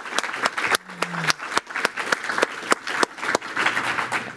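An audience at a heritage and sustainability forum applauds a panel, a few seconds of continuous clapping with sharp individual claps standing out above the crowd, close and fairly loud throughout.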